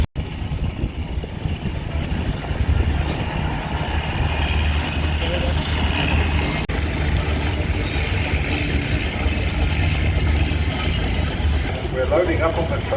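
A vintage steam engine runs at a steam fair, a steady low mechanical rumble and chug filling the scene continuously, with voices talking over it and general outdoor fairground noise.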